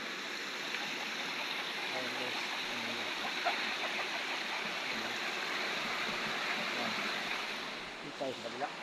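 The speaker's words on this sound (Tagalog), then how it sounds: "Nagagasa ang tubig." Flowing stream water rushes in a steady, even hiss, near and constant. Someone speaks briefly over it.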